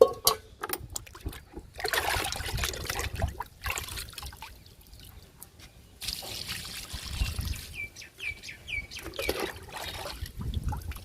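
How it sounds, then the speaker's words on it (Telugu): Rotting kitchen-waste liquid trickles and splashes onto potted plants in short pours separated by pauses, fairly quiet and close, with faint birdsong in the background. "మనం ఇచ్చిన కిచెన్ వేస్ట్లోనే పోస్తున్నానండి"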